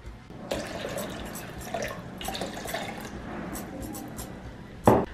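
Warm water pours steadily into a bowl for Amazigh crepe batter, a continuous close splashing stream running throughout, ending in a brief louder splash.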